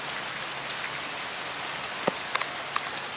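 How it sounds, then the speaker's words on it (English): Light rain patters steadily outside a four-unit apartment building, a soft continuous hiss with a few louder drips landing close by. "It's raining a bit outside"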